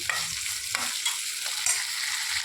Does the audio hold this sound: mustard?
yes